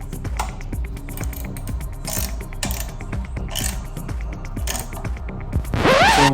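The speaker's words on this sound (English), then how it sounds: "We'll get that tightened up with that 5/32 Allen wrench and 11mm." An 11mm ratchet clicks rapidly and steadily up close while a nut and bolt are tightened against a 5/32 Allen wrench on a Jeep Wrangler JL license plate bracket, ending in a brief creak.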